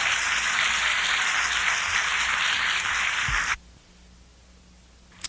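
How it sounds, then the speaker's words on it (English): An audience applauds as Debbie is brought up at a Mary Kay team event: dense, steady clapping for about three and a half seconds that cuts off abruptly into near silence. "So bring Debbie up with a round of applause."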